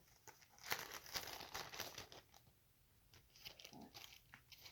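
Quiet plastic crinkling and rustling comes in short bursts with brief pauses between, handled close up, without any speech.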